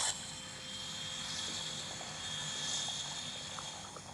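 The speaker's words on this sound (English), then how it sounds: "those turbo engines spewing up on a private jet like that" Jet turbine engines whine and roar steadily at a moderate distance, a high-pitched tone riding over a broad rushing noise, with no talking.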